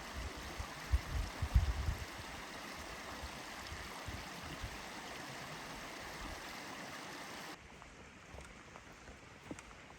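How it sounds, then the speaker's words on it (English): Canyon Creek rushes through alpine forest in the Mount Jefferson Wilderness near Three Fingered Jack, a steady broadband water roar close by, with a few louder splashes early on and the flow softening slightly for the final seconds. "We are hiking parallel to the beautiful Canyon Creek, and here it is in all of its alpine forest wonder"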